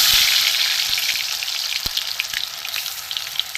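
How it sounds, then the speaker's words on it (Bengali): Drumstick (moringa) leaf fritters sizzle in hot oil over a low gas flame, a steady close hiss with a few soft clicks and taps from the pan, no one talking. "এবার আমি একটা একটা করে ভেজে নেব"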